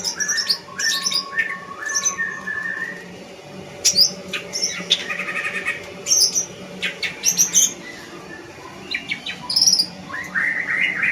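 A green leafbird (cucak ijo) sings in bright, varied chirps and whistled phrases, close and clear over a low steady background hum, with short bursts spread across the stretch.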